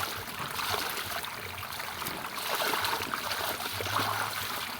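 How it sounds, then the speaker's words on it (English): Clothes are rinsed by hand in plenty of water outdoors in a village, producing a continuous sloshing and trickling wash of water throughout, with no talk. "Here you rinse, very nice because water is in plenty."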